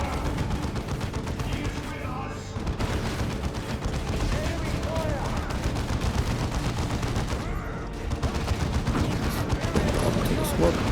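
Heavy gunfire from a Warhammer 40,000 video game battle, dense overlapping bursts and booms rattling continuously throughout, with voices calling out over the din.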